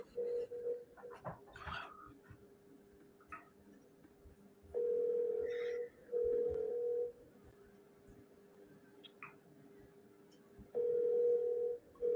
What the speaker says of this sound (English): Let's get David on a call here.